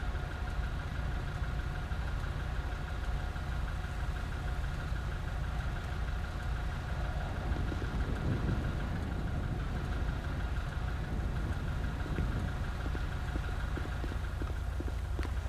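A car engine idles steadily in the crime video game GTA, a low continuous rumble at constant level with faint mechanical ticking throughout and no speech.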